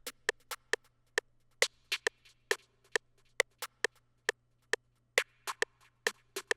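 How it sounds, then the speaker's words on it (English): Sparse, sharp snare hits from a programmed FL Studio beat fall in an irregular pattern over a quiet, steady low hum, each strike crisp and close with short decay. "we have the snare pattern that's going to sound like this"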